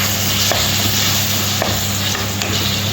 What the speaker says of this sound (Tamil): தக்காளி போட்டோம் நல்லா வதப்போம்